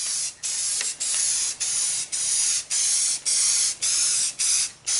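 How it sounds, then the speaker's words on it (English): Repeated bursts of spraying from a trigger bottle onto an epoxy granite countertop, about nine even hissing pulses in a steady rhythm with brief gaps between, close and fairly loud. "I'm going to spray this on."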